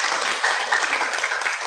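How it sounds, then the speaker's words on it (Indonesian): Congregation applauding during a church worship service at GKSI Glory To Glories in Batam, a steady dense wash of hand claps that fills the whole short stretch at fairly close range, with no talk over it. "Berikan tepuk tangan dulu"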